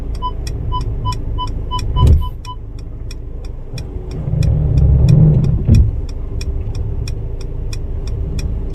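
A Mercedes-Benz E-Class W213 engine idles and hums up close during automatic parking in reverse, with a steady beeping chime early on, then a heavier rumble and a couple of thumps as it maneuvers.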